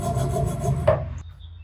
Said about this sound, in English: I'm gonna try hacksaw, see if I can just get that under that lip.